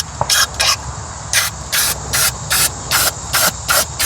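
Brake cleaner sprayed in about nine short, loud bursts into the carburetor of a 1962 Corvair, each hiss lasting under half a second with brief gaps between, over a low background rumble.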